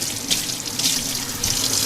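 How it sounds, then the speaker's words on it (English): Cold tap water runs steadily into a kitchen sink while raw pork chops are rinsed under it, a continuous close splashing hiss with small shifts in flow as the meat is turned. "So what we're going to do is just going to rinse them here. Cold water, just rinse them."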